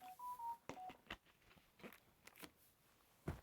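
A phone emits a handful of short dialing and notification tones, sharp beeps scattered among clicks and faint crunching sounds in a quiet room.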